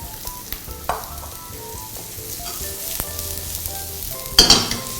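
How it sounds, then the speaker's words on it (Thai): Diced ham and peas sizzle steadily in a hot pan while a utensil stirs and scrapes, with occasional clicks and a louder scraping burst near the end. "แล้วก็ผัดให้ส่วนผสมต่างๆนิ่มนะครับ"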